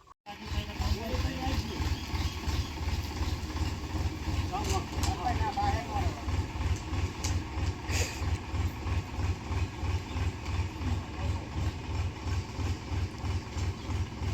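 A heavy diesel tractor engine idles steadily close by, its low rhythmic chugging continuous throughout, with a voice briefly audible over it.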